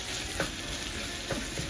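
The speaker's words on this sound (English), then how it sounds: "About a tablespoon ish of ginger garlic paste. We're gonna stir all that up." Ginger garlic paste frying in a pan for mutton curry, a steady close sizzle that runs through the whole clip, with two soft stirring scrapes in the middle and near the end.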